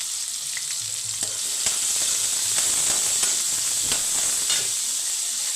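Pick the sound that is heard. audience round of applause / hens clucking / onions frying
onions frying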